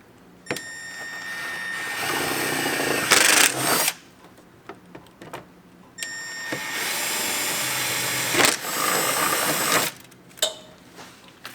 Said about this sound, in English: We're just going to match drill this lower and upper hole right here.